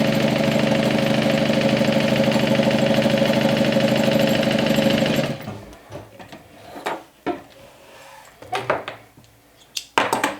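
Sewing machine top stitching a crossbody bag, a fast steady whirring run for about five seconds, then stops, followed by scattered clicks and handling knocks.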